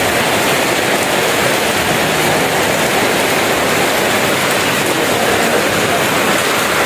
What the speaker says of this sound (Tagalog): Ay, grabe itong ulan na to.